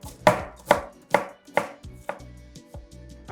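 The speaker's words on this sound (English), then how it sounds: "I am cutting my onion down" Knife chopping through an onion on a cutting board in a home kitchen: four sharp, evenly spaced chops, then a looser run of lighter cuts, close and clear with no voices.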